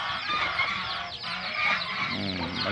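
Chickens clucking on a farm alongside ducks and geese, a dense, continuous chatter of many birds close by with overlapping calls and no pauses.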